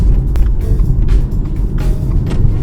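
Heard from inside a 2019 Subaru Outback X-Break (BS9) driving through city streets, the engine rumbles steadily after restarting from idle stop, a continuous low drone with small surges and road noise.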